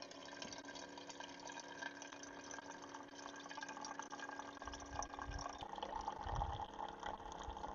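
Water is filled into the kettle of a Trangia camp stove for coffee: a faint, steady, continuous trickle lasting several seconds, slightly fuller toward the end, with no voices.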